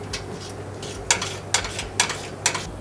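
Ratchet tightening the rear skid plate bolts on a 5th Gen Toyota 4Runner, a few sharp metallic clicks and clanks in separate bursts over a steady low hum, close and fairly quiet.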